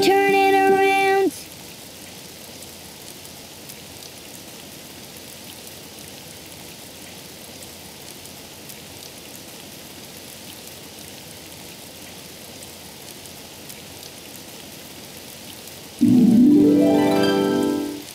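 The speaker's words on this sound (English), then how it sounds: "It's raining outside." Rain falling outside makes a steady, even hiss of moderate loudness that runs for most of the stretch, with brief musical or sung tones at the very start and again near the end.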